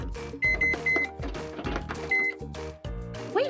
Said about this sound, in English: How does this microwave know what buttons I pressed?